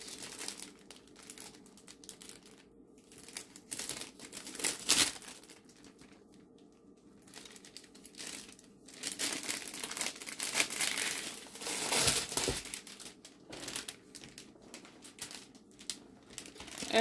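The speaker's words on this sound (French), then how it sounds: "elle vient aussi dans un sac plastique" A plastic bag holding a diamond painting canvas crinkles while being opened, in irregular bursts of close crackling that grow louder toward the middle and end, with no talk.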